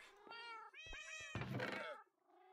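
A Minecraft cat meowing repeatedly in a hardcore game, several drawn-out, close meows in quick succession, fairly quiet with a brief soft pause at the end.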